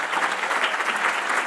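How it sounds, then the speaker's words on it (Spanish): Guests at a networking event applaud together in a short, dense burst of steady clapping that stays loud and even throughout, with no talk over it. "Vamos a darle un aplauso ahora a todos los invitados."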